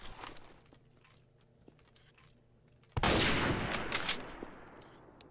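Gunfire in Garry's Mod, a few faint scattered shots followed by a sudden loud burst of rapid firing that trails off into echoing reports.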